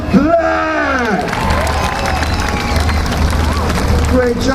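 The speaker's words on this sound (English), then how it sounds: "Let me hear you clap." A crowd at a naval base open house claps and cheers at once, loud and continuous, with high children's shouts rising above the dense patter of hands.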